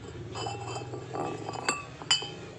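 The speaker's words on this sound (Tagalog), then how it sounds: "Itong mga bote, doon natin ilalagay" Glass bottles knock and clink together as they are shifted and set down outdoors ahead of a storm, with a few sharp bright chinks over a low steady background hum.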